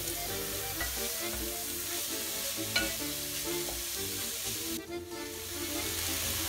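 Grated carrot and onion sizzling steadily in an oiled pan, a continuous close frying hiss with occasional stirring scrapes and no talking.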